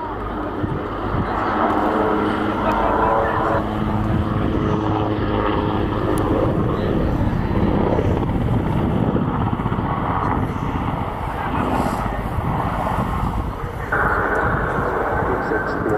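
An attack helicopter roars continuously overhead at an air show flying display, loud pulsing engine and rotor drone shifting in pitch as it maneuvers, with a commentator's voice talking over it.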